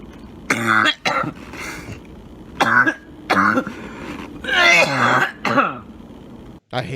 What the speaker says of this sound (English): I hate coughing like that.